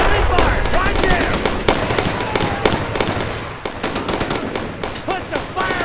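Heavy gunfire in the World War II video game Brothers in Arms: Road to Hill 30, dense overlapping rifle and machine-gun shots crackling near and far with shouted voices mixed in.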